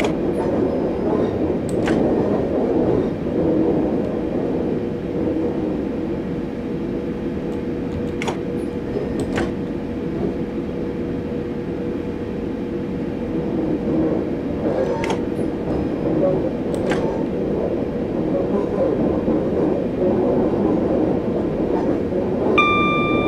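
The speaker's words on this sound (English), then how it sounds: "We can't fit a 12-car train on this platform." A passenger train in Train Simulator 2018 rumbles steadily along the line between Rainham in Kent and Gravesend, a continuous rolling drone with a few sharp clicks and squeals over the wheels and a brief tone near the end.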